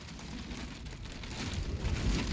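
Heavy storm rain pounding on a truck camper in Alberta, a dense steady roar of drops close by that swells louder toward the end, with no voices.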